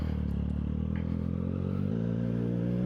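A 400cc motorcycle engine idles steadily while warming up, giving a close, even, low throb with a rhythmic pulse and no revving.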